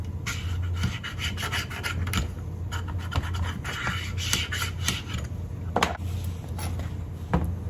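Sawdust and oil buildup scraped off a chainsaw guide bar by hand, a close, steady rasping and scratching with repeated strokes and a few sharper scrapes, no talk over it.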